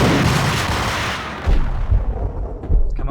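Shotgun blasts in the video game Max Payne, loud booming reports with heavy low-end rumble, a sustained roar followed by two or three punchy thumps in quick succession.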